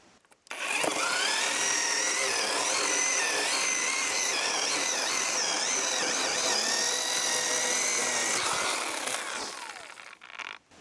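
A chainsaw cutting through thin logs at a forest cabin build site, a loud steady high whine running nearly ten seconds with slight pitch wavers as it bites, then cutting off and falling quiet.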